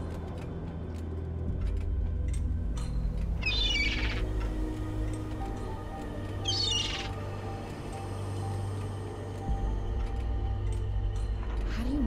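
The Bird Golem, a creature in the Zeno Clash 2 video game, gives two loud, harsh squawks a few seconds apart. A low ambient drone and scattered faint chirps run underneath.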